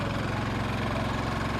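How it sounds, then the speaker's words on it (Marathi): A Kupar engine runs at a farm exhibition in Moshi, Pune, with a steady, continuous mechanical throb that holds an even idling rhythm throughout, close and prominent with no talk. "इंजिन चालू केलं आहे."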